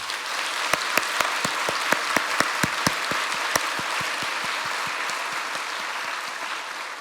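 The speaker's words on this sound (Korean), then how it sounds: "지금은 낙원에 계시는 김응삼 목사님께 박수를 올립니다." A church congregation at a Korean church's 50th-anniversary service applauds in honor of a late pastor, with moderately loud, sustained clapping and a run of sharp, rhythmic individual claps that taper off.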